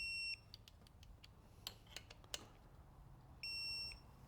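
Two sharp, high electronic beeps like a smoke detector chirp sound, one at the very start and one near the end, each lasting a fraction of a second. Between them are a few faint clicks over quiet room tone.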